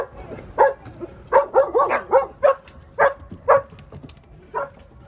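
Several dogs barking and yipping in quick overlapping bursts, about a dozen sharp barks, fairly close over a low background hum, aboard a Leopard 53 power catamaran.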